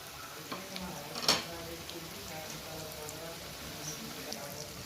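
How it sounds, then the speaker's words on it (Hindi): Potato nuggets deep frying in oil at home give off a steady, soft sizzle and bubble, with a brief sharper clatter near the start and light stirring noises. "इसे हम डीप फ्राई कर लेंगे"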